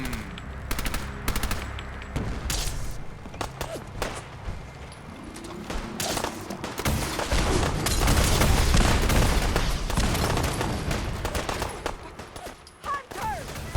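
Dense automatic gunfire and rapid shots against Gulpers in Fallout 4's Far Harbor, sustained bursts layered over booms and shouting, swelling loudest midway before tapering off near the end.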